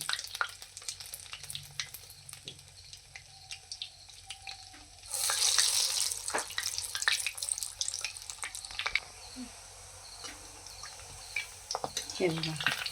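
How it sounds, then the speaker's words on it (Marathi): Medu vada frying in hot oil in a wok, a steady crackling sizzle throughout that grows louder and brighter midway, with occasional clinks and light stirring. "कढईत जेवढे मावतील तेवढेच मेंदू वडे सोडायचे"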